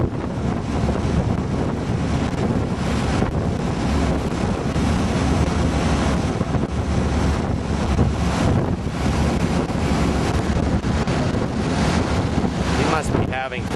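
Strong wind buffets a microphone by the sea, a continuous loud roar over surf near a sailboat, steady throughout.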